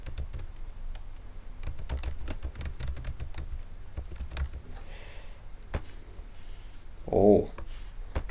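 Fingers tap out a password on a computer keyboard, a close, rapid run of light key clicks with brief pauses, ending in a short burst of another noise.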